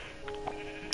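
Sheep bleating in a PlayStation 4 video game, a short faint bleat under soft game ambience with no talk.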